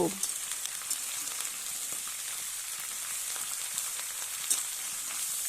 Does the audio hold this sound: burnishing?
no